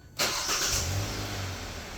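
A 2017 Hyundai Elantra engine, started by remote starter, cranks and catches abruptly, then settles into a steady idle hum, close and fairly loud.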